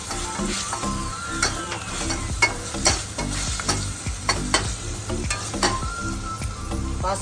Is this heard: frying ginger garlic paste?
yes